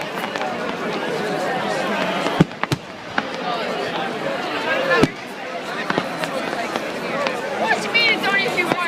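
Fireworks burst at an outdoor concert at Slane, sharp cracks and booms breaking out several times over a loud, continuous crowd roar with shouting voices nearby.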